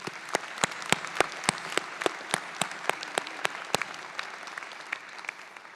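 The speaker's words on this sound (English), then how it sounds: "Please give them a round of applause." Audience applause fills a college graduation ceremony in a large auditorium, heard as sharp, distinct claps in a steady patter that thins toward the end, with no talk over it.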